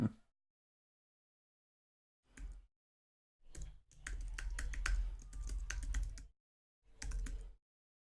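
Someone types a password on a computer keyboard in quiet surroundings: a short tap, a brief burst, then a longer run of fast keystrokes and a final quick flurry.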